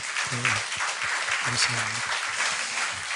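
Applause from a church congregation praising God, a steady patter of clapping running under a voice as he speaks briefly over it.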